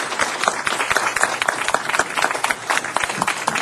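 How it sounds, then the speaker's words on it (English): An audience at a city council meeting claps for a visiting delegation, a brisk burst of close, uneven handclaps that keeps going without a pause. "Let's give them all a round of applause and thank them so much for being here."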